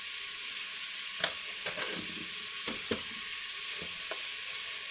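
Ginger paste and spices sizzling steadily in hot oil in a pan, with a spoon scraping and stirring in several soft knocks over the constant frying hiss.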